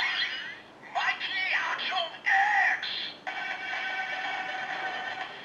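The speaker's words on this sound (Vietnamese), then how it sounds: "Đây là Mighty Action X Gassac của Kamen Rider SC. Thì màu đặc trưng là màu hồng và đây là phần âm thanh của nó." A Kamen Rider Ex-Aid Mighty Action X Gashat toy plays its electronic sound effects through a small tinny speaker: bright chiptune-like bleeps, sliding tones and short voice-like jingles, loud and close, with no talking.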